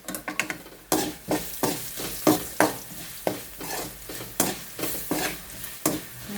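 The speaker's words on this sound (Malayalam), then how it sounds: "നന്നായിട്ട് ഇളക്കാം." Chilli powder masala with crushed chillies frying in a pan, stirred in a steady rhythm of about a dozen scraping strokes over a constant sizzle, close and loud with no voices.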